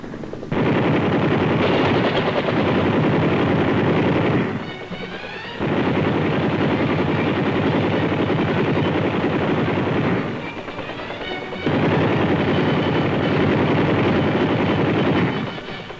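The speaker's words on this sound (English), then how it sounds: "the gunships open up on enemy personnel in the woodline surrounding the landing zone" Helicopter gunships open up with machine guns on enemy personnel in a woodline around a landing zone, loud sustained bursts of rapid fire broken by short pauses, with a rotor drone underneath.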